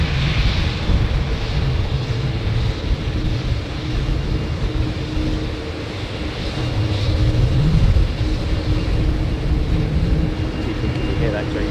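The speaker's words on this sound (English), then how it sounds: "You should hear the power up of the engines." Jet airliner engines powering up for takeoff on runway 09, a loud, continuous deep roar with a broad rumble that swells slightly midway, heard from a distance while people talk over it.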